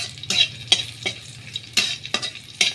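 Leaves frying and being stirred in a hot pan, with a soft continuous sizzle broken by several sharp scraping stirs at irregular intervals, close and fairly loud, with no talking.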